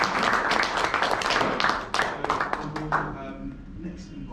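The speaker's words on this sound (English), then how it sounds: "But yeah, a last round of applause." A crowd claps and applauds loudly, the clapping thinning out toward the end as a voice starts speaking over it.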